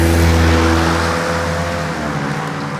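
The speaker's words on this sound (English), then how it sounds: "we're going to wait on this vehicle" A road vehicle passes close by, loud engine and tyre roar at first that gradually fades as it moves away, with no voices.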